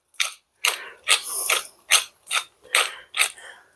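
A hand pepper grinder cracking peppercorns while stuffing is seasoned with salt and pepper, giving about eight short, crisp ratcheting grinds in an even rhythm, close and alone in a quiet kitchen.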